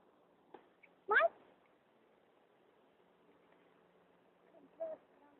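A cat gives a short, fairly clear meow, followed by a fainter one a few seconds later, with soft rustling and quiet room sound in between.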